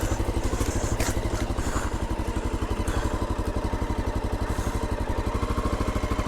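A motorcycle on an off-road trail by a Greek island runs close and loud, its engine throbbing in a fast, steady pulse with rattles and clatter throughout, no voices.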